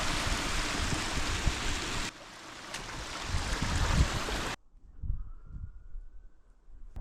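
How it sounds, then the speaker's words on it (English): A small waterfall on Ilkley Moor, heard as steady rushing water that drops in level partway through, then a quieter stretch with faint splashing. "Nice little waterfall."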